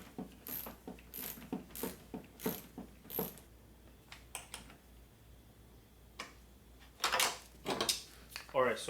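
Ratchet tightening two 10mm headlight bolts on a Dodge Ram, rapid close clicking in short runs that come and go, with someone speaking briefly in between.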